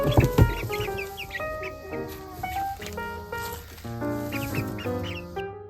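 Month-old chicks cheep and cluck continuously in a brooder lined with shavings. Their bright, overlapping chirps sound close and lively throughout.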